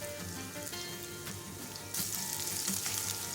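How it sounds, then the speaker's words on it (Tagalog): Potato and carrot pieces fry in a pan for pininyahang manok, giving a steady sizzle that swells louder and brighter partway through, with no voices. "pwede na natin i-start prituhin yung ating patatas at carrot"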